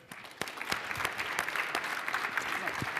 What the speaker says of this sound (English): How about another round of applause for Michael